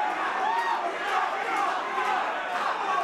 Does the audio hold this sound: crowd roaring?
yes